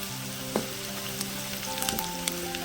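Onions and green chilies fry in oil in a village-style kitchen, giving a steady close sizzle with a few sharp crackles and pops scattered throughout.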